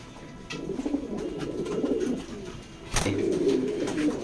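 Racing pigeons at a loft coo in low, throaty, rolling calls, close and fairly steady, with one brief thump midway before the cooing resumes.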